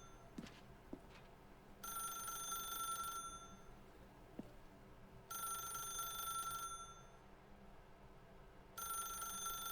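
Telephone ringing in The Stanley Parable game, three long bursts of electronic bell ringing separated by pauses over a quiet ambient background.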